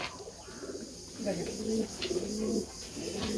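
Pouter pigeons cooing in low, repeated throaty phrases, fairly close, with a faint background murmur and no clear talk.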